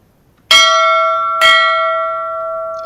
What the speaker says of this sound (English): Just keep giving us bells.